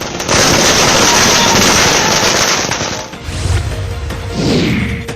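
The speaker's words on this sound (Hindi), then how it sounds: "इस मौके पर कार्यकर्ताओं ने जमकर आतिशबाजी की और मिठाइयां बांटी।" Fireworks bursting at a BJP workers' street celebration in Sagar, Madhya Pradesh, a dense loud crackle of firecrackers for about three seconds, then scattered bangs and a rising whoosh amid crowd noise.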